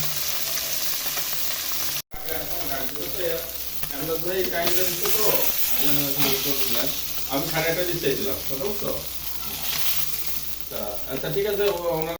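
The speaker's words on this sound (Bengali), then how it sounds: "যে মাছে আঁশ নেই সেই মাছ চুলাই দিলে শুকতে থাকে এবং তেল গায়ে ছুটে আসে" Scaleless river fish frying in hot oil, with a steady loud sizzle and sputtering splatters throughout, a brief dropout near the start, and faint voices mixed in beneath the crackle.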